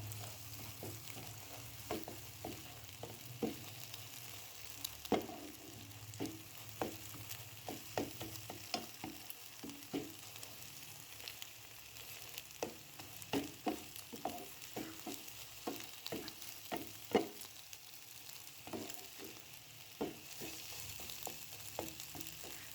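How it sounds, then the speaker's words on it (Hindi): An egg frying in a pan is broken up and stirred for fried rice, with a low continuous sizzle and a quiet run of irregular scraping taps from the spatula. "अंडा यहाँ पे होने लगा है फ्राई।"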